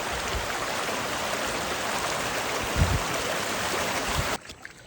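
Floodwater after continuous rain in Itahari rushes in a loud, steady broadband roar that holds almost the whole way, then cuts off sharply near the end.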